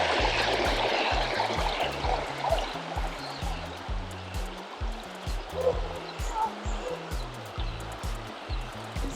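Stream water running over rocks in Sequoia National Park, a steady rushing hiss beneath a low, throbbing rhythmic pattern of deep tones.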